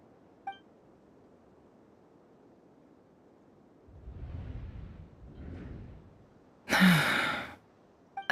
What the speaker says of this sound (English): I heard Yehoda gasp